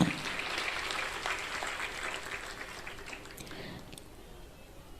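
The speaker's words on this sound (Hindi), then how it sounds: "आपने ताली बजा दी" Audience applause at a Jain temple consecration festival and world-peace ritual, a steady broad clapping from a crowd that fades gradually toward the end.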